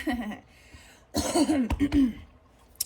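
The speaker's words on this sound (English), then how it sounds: "Let me clear my throat." A voice clears its throat with a rough, drawn-out rasp and a few choppy bursts, close and fairly loud, after a brief vocal sound.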